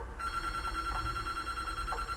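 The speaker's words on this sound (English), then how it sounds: "My phone decided to ring!" A mobile phone rings during quiet play of the game Myst III: Exile, a steady electronic ringtone tone sustained across the clip over low background hum, fairly soft.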